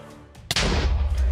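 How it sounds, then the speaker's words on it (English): Explosions in Minecraft: a faint thud, then a sharp loud blast that rolls into a heavy, sustained booming rumble lasting to the end. "I thought I maybe heard some explosions right there."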